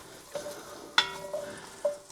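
Onions sizzle steadily in butter in a pan for a pea and ham soup while a utensil stirs them, adding a few distinct scraping clinks over the close, continuous frying hiss.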